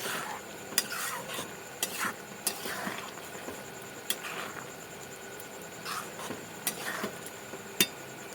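Egg tarka simmers and bubbles in a pan with a soft, steady sizzle, punctuated by sharp clinks and scrapes of a spoon stirring against the metal.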